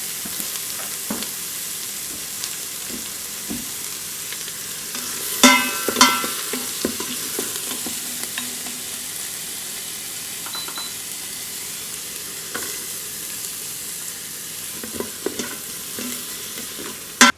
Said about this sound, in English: so my Instant Pot has been on saute for about 5 minutes, so it's nice and hot.